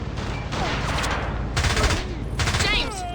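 Dense bursts of gunfire and missile launches from the James Bond 007 Blood Stone video game, loud and continuous, with whooshing streaks over sustained rattling fire and a faint voice under the action.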